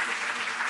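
An award ceremony crowd applauds, a brief, steady burst of many hands clapping together without voices.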